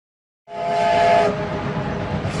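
A train in a film sounds a loud whistle blast that cuts in suddenly, then gives way to a steady, heavy rolling rumble as it stops.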